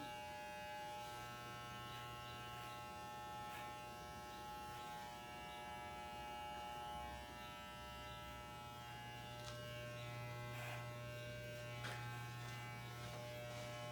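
Electric hair clippers buzz steadily and close up during a haircut, a constant electric drone that shifts slightly in pitch as the blades move through hair.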